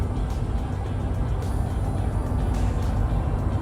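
Truck cruising on smooth open road pavement, heard from inside as a steady broadband road and engine drone, fairly loud and unbroken, with no talking.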